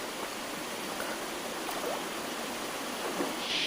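Steady, close rushing of a shallow stream at a traditional fishing spot runs evenly throughout as a constant broadband wash with no voices.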